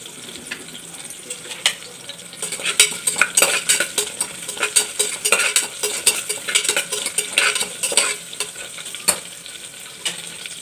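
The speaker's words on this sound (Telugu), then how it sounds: "ఇది కాస్త వేగాలండి ఇది కాస్త వేగినాక ఇప్పుడు బిర్యానీ హోల్ గరం మసాలా వేసేసుకోవాలండి" Whole garam masala and cumin seeds fry in hot oil in a pan for methi pulao, giving a steady sizzle with frequent sharp scrapes and clinks of a spoon stirring against the metal, close and fairly loud.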